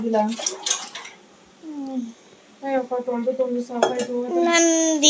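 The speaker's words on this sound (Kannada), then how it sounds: "ಒಂಚೂರು ಪಾತ್ರೆ ತೊಳ್ಕೊಡು ಅಂತ ಹೇಳಿದ್ದೆ" Dishes and cutlery being washed clink and clatter intermittently, close by, while people talk over the sounds.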